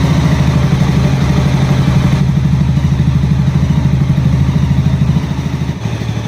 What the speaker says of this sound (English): I'm going to idle my bike for exactly 10 minutes